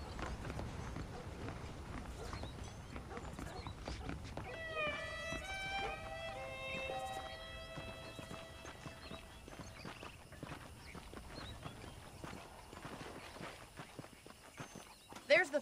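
Steady clip-clop of horse hooves walking beneath a voice in the video game Red Dead Redemption, with a brief melodic chime partway through and game ambience throughout.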